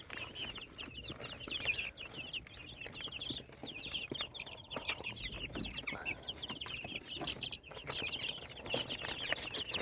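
Farm chickens, including large hens and young Fayoumi chicks, cluck and chatter steadily and continuously at close range, with busy overlapping calls and no talking.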